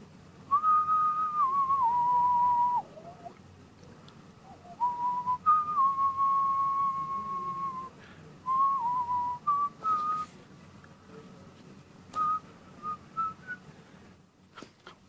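A person whistling a wandering tune of sustained, sliding notes, clear and close, with pauses between phrases and short chirpy bursts toward the end, alone without talk.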